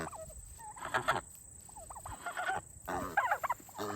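Several turkeys gobble loudly and repeatedly in a pen, with overlapping bursts from more than one bird, close by and without talk.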